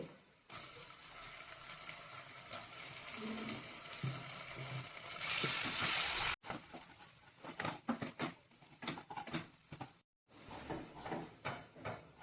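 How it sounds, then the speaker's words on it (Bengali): Ginger-garlic paste frying in a pan with browned onions while mung dal with fish head is cooked, a steady close sizzle and hiss that swells loudly for a moment, then breaks into crackling spatters with brief pauses. "আদা রসুনটা ভাজা হয়ে গিয়েছে, কাঁচা গন্ধটা চলে গিয়েছে"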